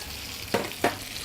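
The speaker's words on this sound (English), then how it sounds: "Give that a bit of a stir." Shallots, diced carrots and celery frying in a pan for coq au vin, a low sizzle underneath two quick scraping stirs, close and fairly quiet, without any voice.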